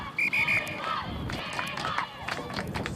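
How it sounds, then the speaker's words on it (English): Spectators roar and cheer near the close of a women's Division II rugby semi-final between Florida International and Mary Washington, a dense crowd noise with a shrill whistle-like tone early on. "Crowd's really coming alive at the end of this game."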